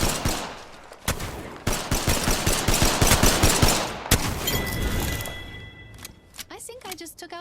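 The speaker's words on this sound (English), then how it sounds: "it's really useful for the use a gun like the Spitfire, because when you miss half your shots, then, well, got a lot of shots" Rapid Spitfire machine gun fire in Apex Legends, loud bursts of close gunshots crackling for several seconds, then tapering off as a voice talks over the end.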